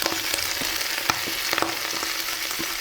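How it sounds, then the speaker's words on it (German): Lentil salad with vegetables tossed briefly in a hot pan, a continuous close sizzle broken by irregular scraping and tapping stirs, evenly loud throughout with no speech. "die Pfanne ist schön heiß und jetzt gebe ich wirklich nur ganz kurz meine Zutaten hinein"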